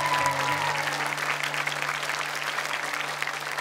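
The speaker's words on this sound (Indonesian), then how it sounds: "Sekali lagi tepuk tangan untuk 13 anak ini." Studio audience applauding 13 child Quran reciters on an Indonesian televised hafiz competition, sustained, dense clapping over a steady low hum.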